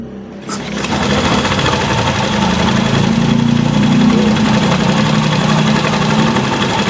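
A Honda Vario 110 FI scooter engine with a rough running fault idles loudly and steadily at close range after starting up, giving a continuous buzzing, slightly knocking drone that holds for several seconds.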